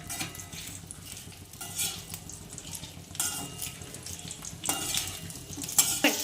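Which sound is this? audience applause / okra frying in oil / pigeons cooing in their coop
okra frying in oil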